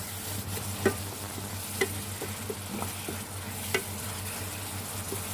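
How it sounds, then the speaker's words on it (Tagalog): Ingredients for steamed carp, including chicken powder and spring onion, are stirred together in a sizzling pan. A steady frying hiss runs throughout, broken by a few sharp utensil clicks, with no one talking. "And then we'll mix all the ingredients."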